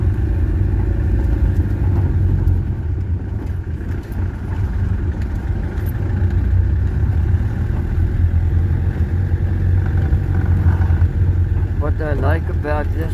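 Peugeot 404 diesel with an XT3 motor driving on a gravel mountain road, a steady close engine drone and rumble throughout, with someone talking over it.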